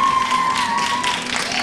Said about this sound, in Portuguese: estes aplausos não me deixam mentir